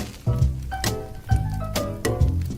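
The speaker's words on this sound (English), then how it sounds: "take a spoon and let's break and destroy it, so that it turns into juice" Spoon squishing and mashing watermelon pieces with sugar and water into juice, wet squelching strokes repeated about three times, close and fairly loud.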